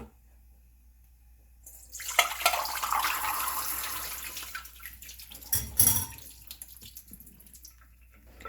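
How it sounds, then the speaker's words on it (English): Soaking water poured off a pot of red beans into a sink, a steady close splashing stream starting after a quiet moment and running to the end, with a louder gush partway through. "So I'm going to discard this water"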